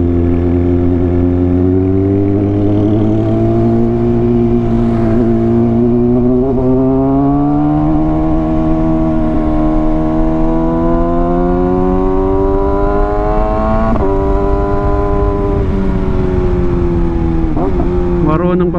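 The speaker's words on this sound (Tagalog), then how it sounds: "Marunong pa pala ako magmotor ngayon ng manual." A manual motorcycle climbs a steep uphill road, its engine droning close and continuous, pitch rising and dipping as the rider works the throttle and gears.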